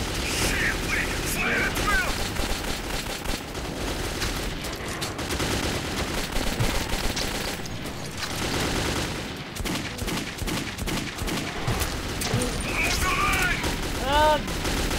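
Rapid bursts of gunfire from the video game Metro 2033 fill the stretch, loud and dense, with a player shouting and talking over the constant shooting and clatter.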